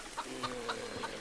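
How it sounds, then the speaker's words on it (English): Chickens cluck softly in a zombie survival video game set in Birmingham, a few quiet, evenly spaced clucks over a steady background hiss. "Chickens. I hear chickens."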